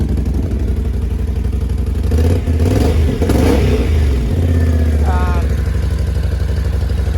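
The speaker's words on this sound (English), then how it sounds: "once you take out the drain plug, it gives it a little bit of a deep rumble" A Can-Am Outlander X-mr 570 ATV engine with its drain plug removed rumbles deep and steady throughout, swelling louder in a brief rev midway before settling back to a low, continuous idle.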